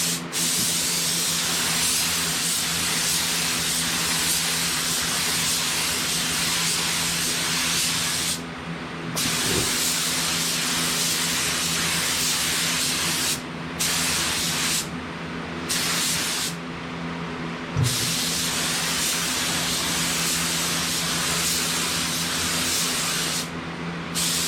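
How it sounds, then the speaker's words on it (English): A spray gun lays down pink pearl paint in long continuous hissing passes with a few short pauses between strokes, loud and close, an engine-like hum running underneath. "We're gonna lay down probably like 2 to 3 coats of this pink pearl"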